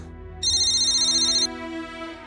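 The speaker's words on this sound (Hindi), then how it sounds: "तुम जाकर फोन उठाओ जल्दी से।" A telephone rings indoors in a TV drama scene, a bright electronic ringtone burst lasting about a second over a low background hum.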